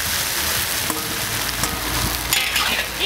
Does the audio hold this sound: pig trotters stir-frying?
yes